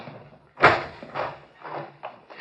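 A door is opened in a vintage radio crime drama, heard as a close, solid knock of the latch followed by several shorter thuds and rattles spaced through a quiet room.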